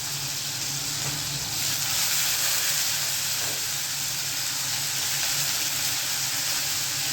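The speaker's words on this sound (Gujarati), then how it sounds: "વઘારમાં લસણ મૂક્યું. બહુ સરસ વઘાર આવ્યો." Garlic sizzles hard in hot oil with cumin and asafoetida for a Gujarati tempering, a loud, close, unbroken hiss that swells slightly after the first seconds and carries no talk over it.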